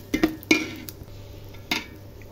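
A utensil stirs salt, turmeric, cinnamon, cardamom and spices in a pan for khichuri, a few close metallic scrapes and clinks spaced unevenly over a faint sizzle.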